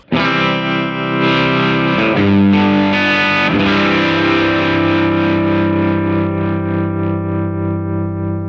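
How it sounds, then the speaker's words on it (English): A loud, sustained distorted electric guitar chord rings out through an amp, its level pulsing with a wavering bias tremolo before slowly fading. "So this is a real bias tremolo, I think, using the amplification to get the desired effect."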